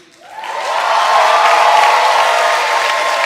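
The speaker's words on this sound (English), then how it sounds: "could we give a huge round of applause to our conference planning team?" Applause and cheering from a conference audience for the planning team swell quickly and hold steady as a dense, loud crowd roar with no break.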